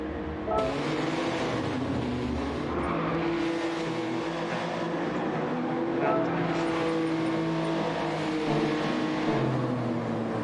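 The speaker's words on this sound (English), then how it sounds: "The guys are just rolling on for qualifying, so you can hear the engines running around." Race car engines from a sim racing game drone and rev steadily through a qualifying session at the Nürburgring, with Toyota Corollas and Lamborghinis circulating, the motors blending into a continuous mid-level hum under a voice.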